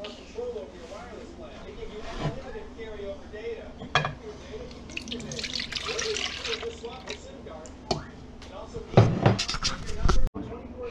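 Milk poured into a bowl for a strawberry cheesecake, a trickling liquid splash with a few clinks of kitchenware, under a person talking.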